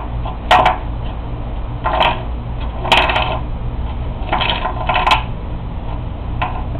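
Paracord firestarter bracelet pulled apart and unwoven, a series of about six brief snapping, clicking tugs spaced roughly a second apart over a quiet background.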